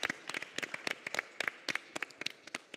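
A small conference audience claps briefly and sparsely, with distinct individual hand claps scattered unevenly, fairly close and moderately loud.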